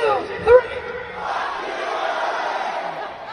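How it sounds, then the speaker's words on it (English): A crowd chanting "fuck RA" together in unison at a hockey event, a loud massed roar of voices that starts with a single shouted cry and then swells into a sustained, rowdy group chant. "A fuck RA chant can get the crowd going, dude"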